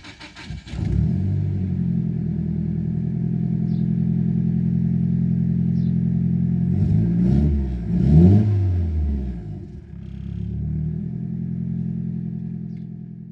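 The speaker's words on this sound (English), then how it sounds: "there's only one thing left to do but start the car" A car with an ECU Master EMU Black engine management setup and drive-by-wire throttle is started, then its engine idles steadily and revs up sharply a couple of times, loud and close, with no talk.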